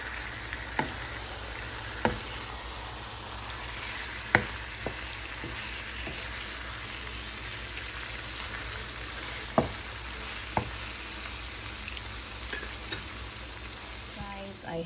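Pork frying in a pan sizzles steadily throughout, with a few sharp clicks and knocks of a utensil against the pan standing out now and then.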